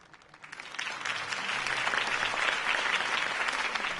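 A crowd applauds after a campaign speech in Batman: The Telltale Series, the clapping rising quickly from quiet to a full, dense, sustained ovation.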